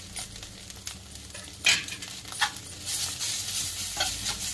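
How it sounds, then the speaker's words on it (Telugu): Ginger garlic paste frying and sizzling in a pan, a soft continuous crackle with occasional stirring scrapes and brighter bursts of sizzle. "బాగా ఫ్రై అయిపోవాలి, పచ్చివాసన పోవాలి అల్లం వెల్లిపాయ పేస్ట్"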